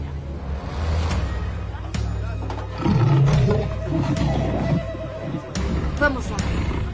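A tiger gives a deep, rough roar and growl mid-scene among loud clattering and bangs, with voices speaking over parts of the noise.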